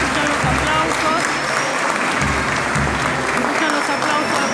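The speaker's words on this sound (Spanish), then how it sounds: "Escuchan los aplausos al pueblo católico de Chancay." Loud, sustained applause from the Catholic faithful inside the main church of Chancay as the image of the Cristo Moreno, Señor de los Milagros, is brought in; dense clapping with crowd murmur and voices underneath, steady throughout.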